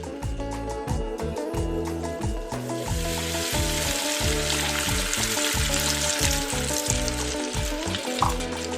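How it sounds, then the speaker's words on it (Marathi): Chicken leg pieces fry in hot oil in a pan, giving a loud, steady, close sizzle throughout over background music. "हे चांगलं लालसर होईपर्यंत फ्राय करायचं"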